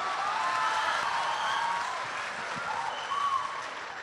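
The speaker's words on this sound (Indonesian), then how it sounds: "Aplaus dulu untuk Pak Abdi." An audience at a talk breaks into steady, dense applause that fills the room evenly and tapers slightly toward the end, with no voices over it.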